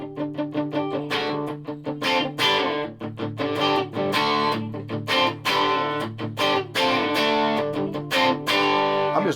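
Distorted electric guitar from a CSL Telecaster-style custom guitar through a valve amp, playing loud, continuous strummed chords and riffs with sustained, crunchy overdrive and no voices.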